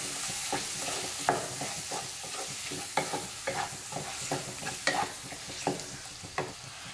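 Tomatoes and masala stirred and frying in a pan for a kurma, with a steady sizzle broken by repeated close scraping strokes of a spoon at a fairly even rhythm.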